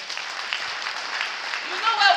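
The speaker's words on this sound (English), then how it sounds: "And can we clap for him?" Audience clapping at a community gathering, a steady wash of applause from many hands that fills the whole stretch, with a voice breaking in briefly near the end.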